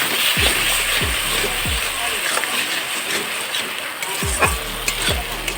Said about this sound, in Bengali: সেই মশলাটা কিন্তু দিয়ে ভালো করে নাড়াচাড়া করে নিচ্ছি